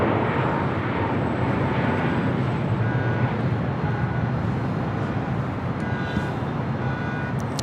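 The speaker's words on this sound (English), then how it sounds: "Speedbird rolling down 7 left there on the south side." A British Airways jet on its takeoff roll down runway 7 left at LAX, a broad, constant rumble of engines at distance, steady throughout with faint higher tones flickering over the roar.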